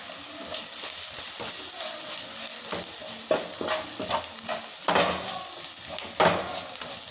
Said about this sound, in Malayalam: മല്ലിപ്പൊടി ഇട്ട് നമ്മൾ ഇച്ചിരി ഇളക്കണം.